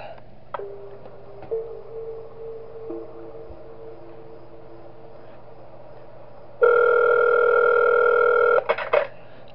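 A phone call tone in the video game Those Nights at Wario's 3, starting with a low steady hum and short clicks and then giving way to a loud, sustained ringing tone near the end before cutting off.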